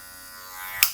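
An electric hair clipper set to a high zero guard works the tip of its blade over darker patches during a fade, giving a brief, close, steady buzz with a sharp click near the end.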